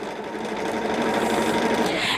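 A Bernina 37D sewing machine with a 1/8 and 1/4 inch foot stitches a quilt in a fast, continuous mechanical chatter, close and loud throughout.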